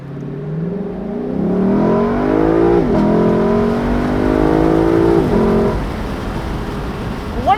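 A 2021 Lexus LC 500 convertible launches hard in Sport Plus mode, its engine note climbing steadily through a long pull with a brief shift dip midway, loud and close throughout.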